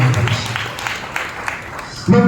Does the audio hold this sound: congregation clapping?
yes